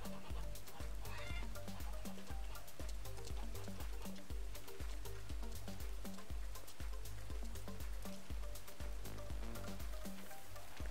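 Hens cluck and chatter inside the farming video game Farmers Dynasty, a steady busy flock sound layered over a constant rhythmic game background bed throughout.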